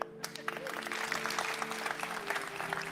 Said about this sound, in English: You're not supposed to be clapping.